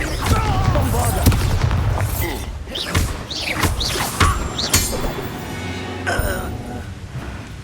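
A Bombarda explosion spell in Hogwarts Legacy, heavy booming blasts and thuds amid busy combat noise, with a voice speaking over the action.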